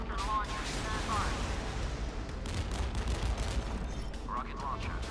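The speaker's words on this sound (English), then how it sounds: "Rocket launcher, destroy the torpedo." Rocket launchers fire repeatedly in a naval battle in Modern Warships, with a steady dense rumble of launches and blasts and a few whistling streaks over the top.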